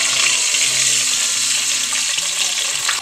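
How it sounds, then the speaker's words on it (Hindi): Water poured into a hot pan of frying raisins sets off a loud, steady hiss and bubbling sizzle that continues unbroken throughout with no talk. "किशमिश हमारी जले ना, इसलिए मैं थोड़ा सा भी पानी डाल दूंगी"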